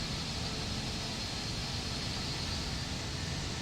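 Steady broadband roar of an Airbus 319 jet engine running in the X-Plane 11 flight simulator, a continuous even rumble at constant level with no voices.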